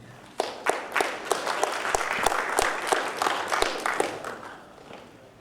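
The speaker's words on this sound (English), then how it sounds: "A round of applause, please." Conference audience applause, many hands clapping in a dense, lively patter that swells quickly and continues evenly throughout.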